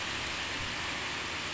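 Rain patters steadily on an iPhone 6S Plus screen outdoors, a dense, even hiss of drops that stays continuous and fairly close throughout.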